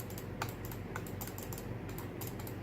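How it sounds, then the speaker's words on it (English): Quick, crisp clicks sound close up in irregular bursts, like a mouse button being pressed repeatedly, over a faint steady background hum. "compare and see the click noise versus the M331"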